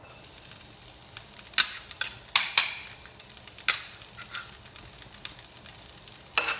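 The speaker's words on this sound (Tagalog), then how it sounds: "Saute the garlic and the onion." Garlic and onion sauté in a little oil in a pan, a steady close sizzle broken by sharp clinks and scrapes of stirring at irregular intervals.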